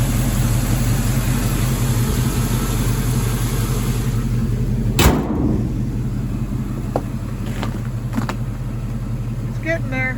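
A 1956 car engine idles close by with a steady, even low rumble that holds throughout, broken once by a single sharp knock near the middle.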